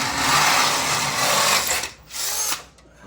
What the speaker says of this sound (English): we're all handing the drill bit around, drilling it out to the